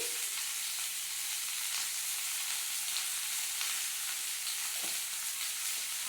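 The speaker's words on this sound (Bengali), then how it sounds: "এবার আমি হলুদ দিয়ে ভেজিটাকে ভালো করে ভেজে নেবো" Vegetables fry with turmeric, salt and green chilli in a pan, giving a continuous, close, bright sizzling hiss with faint stirring throughout and no voices.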